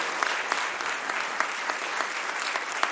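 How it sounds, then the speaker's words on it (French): Steady, dense applause from the audience at a live KickCancer charity ceremony, many hands clapping together at an even level with no talk over it. "Applaudissez Alexia et Guylaine"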